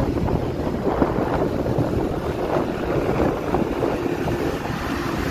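A steady, heavy rumble of a large intercity bus engine while overtaking on the road, dense low-frequency roar with wind buffeting, continuous and loud throughout, no talking.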